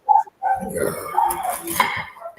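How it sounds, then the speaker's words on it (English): A dog barks repeatedly at close range, a series of sharp, yappy barks running throughout with a few brief pauses. "Is that Bjorn barking?"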